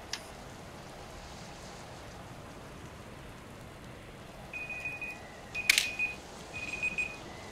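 A mobile phone alert chimes as a few thin, high electronic beeps spaced about a second apart, over a faint steady hiss, with a soft click near the start.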